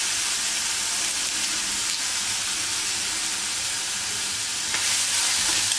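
A crushed mix of dried red chilli and onion, added after mustard seeds pop, fries in hot oil with a loud, even hiss and sizzle that holds steady throughout, with a faint scrape or two.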